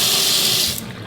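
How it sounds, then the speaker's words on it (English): Water runs from the tap into a hotel bathroom sink at a resort, a steady close rushing hiss that eases off toward the end, with no voices. "Okay, they've ran the water."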